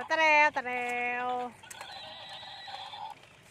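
A zebra dragging a hula hoop lets out a loud, shrill, quavering whinny lasting over a second, followed by quieter, thinner calls and faint rustling.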